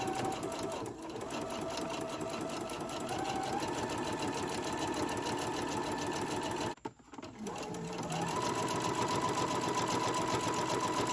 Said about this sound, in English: So I'm going to go ahead, I'm going to sew this all the way down.